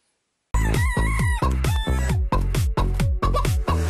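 A rooster crows loudly and close up in a rapid run of about nine harsh, strained calls that follow one another with barely a pause, starting abruptly after a moment of silence.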